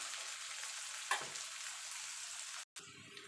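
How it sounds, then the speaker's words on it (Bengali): Onions sizzle steadily in a hot pan, a continuous hiss with a brief stir near the middle and a short dropout before the frying resumes; no talking. "পেঁয়াজটাকে একটুখানি ভাজা ভাজা করে নেব"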